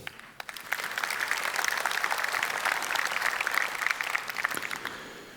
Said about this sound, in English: I think you owe yourselves a round of applause